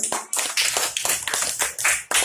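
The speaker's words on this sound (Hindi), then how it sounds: "तालियां तालियां" A small group claps hands together during a rope-untangling team-building game, sharp irregular claps close by, bunched in quick bursts with brief gaps.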